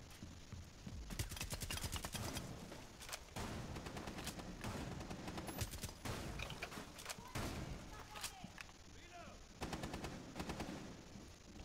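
Gunfire in the video game Rainbow Six Siege, during a house hostage team deathmatch: rapid bursts of automatic fire and repeated shots rattle on and off throughout, with brief gaps and players talking over the shooting.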